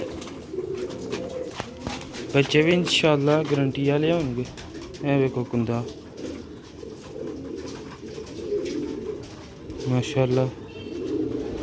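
Chuha breed pigeons coo in repeated low throaty bursts close by while someone talks over them.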